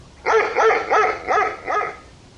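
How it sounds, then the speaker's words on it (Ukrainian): A dog in a dark forest gives five loud, evenly spaced barks, each a sharp burst closely following the last, heard alone against a quiet night background. "раптом різко підірвався і помчав у темряву лісу з гучним гавканням"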